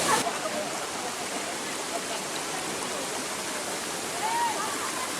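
A waterfall at Watu near Bajawa gives a constant, dense roar of falling water, loud and steady throughout with no breaks.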